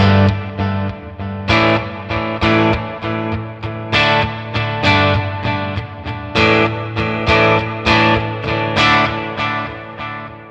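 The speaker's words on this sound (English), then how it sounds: "or we want a really long delay setting," Red Panda Context pedal on a long delay setting, a steady stream of loud effected instrument notes whose repeats overlap and blur into a continuous, distorted wash for about ten seconds, no talking.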